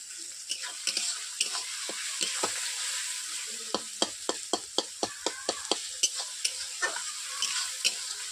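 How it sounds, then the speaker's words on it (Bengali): Onions fried with salt in a pan for chicken curry sizzle steadily while a utensil stirs them in a run of sharp, regular scraping clicks, close and alone with no talk. "পেঁয়াজগুলো ব্রাউন কালার চলে এসছে ভাজা ভাজা হয়ে গেছে"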